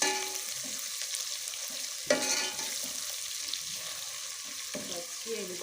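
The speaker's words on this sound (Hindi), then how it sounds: "हम इसके अंदर ये 1 टेबलस्पून लहसुन अदरक ऐड कर देंगे। इसे अच्छे से फ्राई करके" Garlic and ginger paste fries in a pan, browned onions already inside, giving a steady moderate hiss with a sharp clatter of stirring near two seconds and a few softer scrapes.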